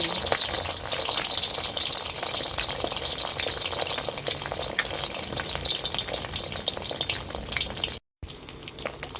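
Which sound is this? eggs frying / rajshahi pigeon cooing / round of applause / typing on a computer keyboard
eggs frying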